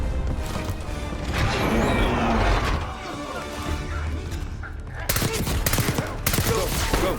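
Dense, overlapping gunfire from the Call of Duty: Black Ops 6 campaign rattles almost continuously with loud crashing bursts, heaviest near the start and again in the final seconds.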